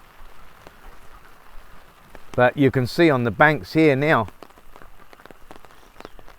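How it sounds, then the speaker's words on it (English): Heavy rain patters steadily on the surface beside a flooded riverbank where ducks and fish are being fed, a soft constant hiss beneath someone talking in the middle. "That, my friends, is a lot of rain."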